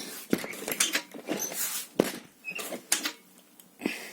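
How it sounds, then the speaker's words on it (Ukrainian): A heavy door swings shut inside a building in a zombie apocalypse video game, giving several creaking, knocking thuds and scrapes spread unevenly across the moment, fairly close, with no talk over it. "Двері важко закриваються."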